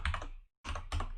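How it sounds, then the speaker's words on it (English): Quiet typing on a computer keyboard: two short bursts of rapid key clicks separated by a brief pause. "sorry, my typing is bad"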